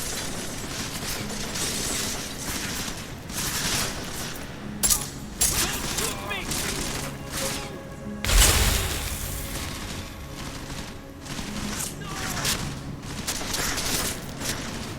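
Gunfire in Deus Ex: Mankind Divided, a busy exchange of repeated sharp shots mixed with shattering and clattering impacts, one especially heavy hit midway, over a steady background bed.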